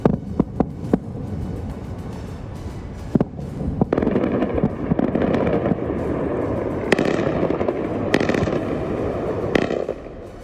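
Airstrike explosions over Isfahan, Iran, crack out as several sharp blasts, a few close together early and more spaced later, over a dense, steady rumbling roar with no talk.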